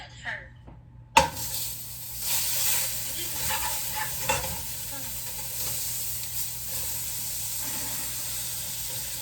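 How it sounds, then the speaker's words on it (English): Butter hits a clean, hot breakfast pan with a sudden crackle, then settles into a steady, close sizzle and hiss as it melts, with small pops throughout. "So now you want to go ahead and add your butter to the pan."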